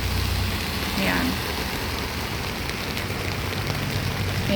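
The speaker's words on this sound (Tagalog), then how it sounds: "Patuloy pa rin yung ulan pero ano naman, hindi na masyadong malakas yung ulan." Steady rain during flooding hisses continuously on surfaces, a dense, even wash of sound with a faint low rumble beneath and no clear voices.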